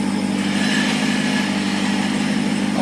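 A 2018 Jeep Trackhawk in drive with its wheels spinning, the front axle shaft damaged, gives a steady, close engine drone with a constant hum throughout, no voices.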